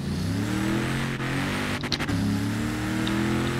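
A stock 2017 Ford F-150 Raptor in Forza Horizon 3 with manual clutch shifting holds a steady loud engine drone, briefly interrupted near the middle by a gear change, then the engine note resumes and climbs.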